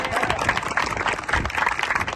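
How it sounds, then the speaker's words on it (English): Crowd applause at an outdoor park dedication for Entrican Park in Elk Grove, a steady wash of clapping and cheering that runs throughout, fairly loud, with voices mixed in. "she should have another clap"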